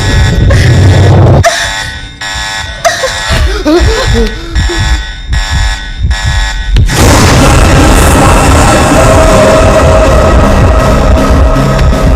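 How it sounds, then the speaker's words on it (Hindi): An emergency alarm buzzer blares in a movie scene, loud and harsh, with repeated pulsing bursts followed by a sustained dense wail. Loud effects and voices are mixed in. "कोई इमरजेंसी अलार्म प्रेस करो।"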